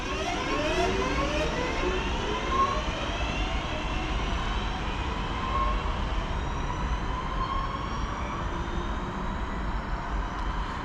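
Class 323 electric multiple unit 323223 pulls away from Macclesfield station, a steady near rumble with rising whine and rail noise continuing throughout, with no talking.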